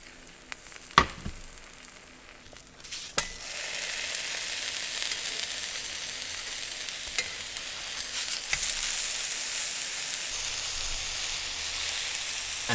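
Mushrooms frying in a pan for vegan shawarma, a steady close hiss and sizzle with occasional clinks and stirring knocks, continuing throughout.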